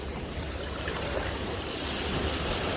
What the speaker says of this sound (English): my feet, which I have here being caressed by the water as it rushes to the shore